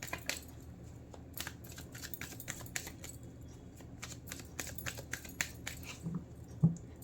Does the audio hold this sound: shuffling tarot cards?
yes